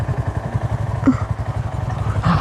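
A motorcycle engine runs steadily during a road ride, a continuous low throbbing drone with rattly clatter and a slight rise in pitch near the end, close and moderately loud with no talking.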